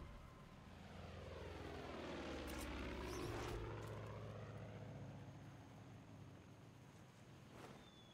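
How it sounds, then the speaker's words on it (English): A propeller airplane passes overhead in the video game Far Cry 5, its engine drone swelling to a peak midway and then fading away as it recedes. "Airplane, go away."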